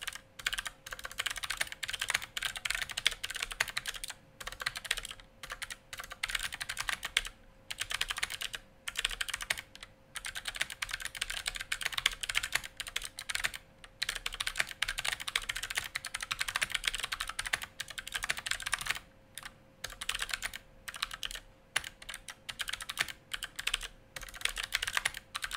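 An Armaggeddon SMK9R low-profile mechanical keyboard with OTEMU blue tactile switches is typed on steadily, producing loud, crisp clicky keystrokes in a fast irregular rhythm with brief pauses and no voices.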